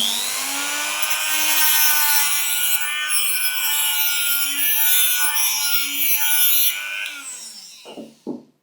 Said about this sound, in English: Then I'm going to use the Dremel